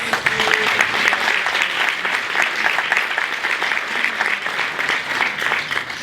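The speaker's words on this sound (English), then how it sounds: "Let us give her a round of applause." An audience gives a sustained round of applause at a cultural hub event, with dense, steady clapping filling the room for the whole stretch and no speech over it.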